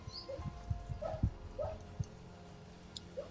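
Dogs give short soft yips and whimpers, several brief high cries scattered across a few seconds, with low thumps and rustling nearby and no talk.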